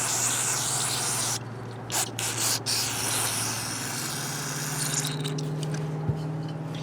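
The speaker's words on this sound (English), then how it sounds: "just spray it down with the carb spray" A loud, hissing aerosol carburetor cleaner spray on a Bolens lawn mower carburetor, in long continuous bursts with short pauses between them, close by, over a low mechanical hum.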